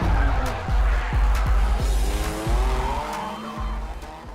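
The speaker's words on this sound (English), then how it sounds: "Do donuts in the snow and on the ice." A car spins donuts on snow and ice, its engine roaring close while the tires skid and hiss in repeated rhythmic surges.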